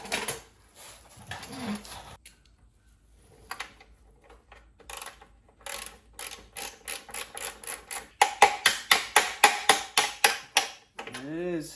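A hand ratchet works a bolt loose during teardown of a 1967 Honda CL90 motorcycle. Scattered tool handling gives way to a quick, steady run of sharp metallic clicks, close and fairly loud.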